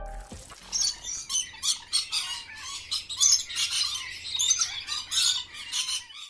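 A pair of nesting birds squawking as they attack a snake near their nest, giving rapid, loud, harsh calls in an almost continuous chattering run after a brief clatter at the start.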